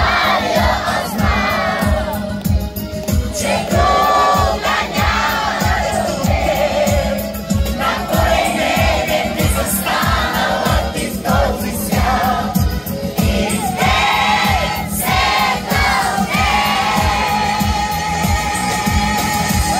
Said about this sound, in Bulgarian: И мисля, че ви пожалват тези аплодисменти